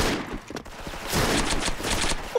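Rapid bursts of gunfire crack and rattle close by in a shooter video game, with bullets whizzing past in a dense, continuous volley lasting a couple of seconds.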